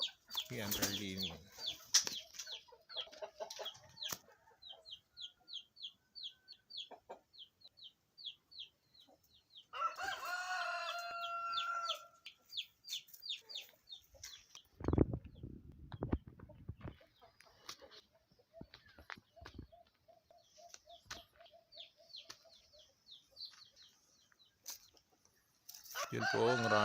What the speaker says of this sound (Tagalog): Po yung mga manok.